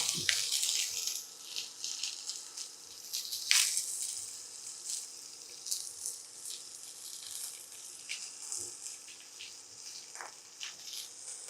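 Mustard seeds, cumin, onions and chillies crackle in a hot pan with a steady bright sizzle, dotted with sharp pops and spits, loud and close.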